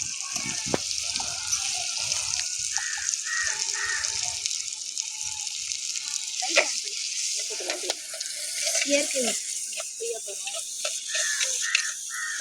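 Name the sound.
onion, tomato and garlic paste sizzling on wood stove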